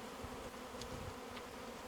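Honeybees buzzing at the front of a homestead beehive, a steady, even drone of many insects with no voices.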